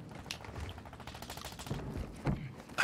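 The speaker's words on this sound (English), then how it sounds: "I hear him shooting." Gunfire in the video game Call of Duty: Modern Warfare II, heard as rapid, fairly distant bursts of automatic shots rattling steadily with a couple of sharper louder cracks near the end.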